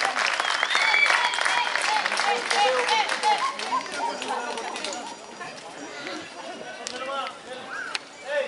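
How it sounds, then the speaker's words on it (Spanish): Loud, sustained audience applause at a horse riding show starts strong and gradually thins out, with an announcer's voice over it. "Que se repite el aplauso"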